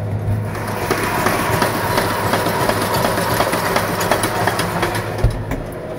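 A farm tractor engine runs steadily with a soil-digging machine attached, producing a continuous loud, rumbling drone with rattly mechanical clatter throughout and no talking.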